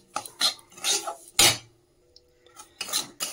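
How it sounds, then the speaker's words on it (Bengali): Semolina roasts in ghee in a pan while a spatula scrapes and stirs it, giving several short, close, gritty strokes with brief pauses between them and no talking. "এই যে সুজিটার একটু ঘি দিয়ে ভেজে নিচ্ছি"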